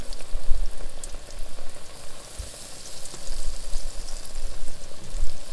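Pancake-batter-coated Twinkie and Oreos deep-frying in hot oil, a steady loud sizzle and bubbling crackle throughout with occasional soft pops.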